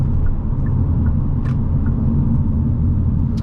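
Inside a 2025 Hyundai Elantra N with a DCT gearbox while driving, a loud, steady low engine drone and road rumble fill the cabin without letup, with a couple of faint brief ticks above it.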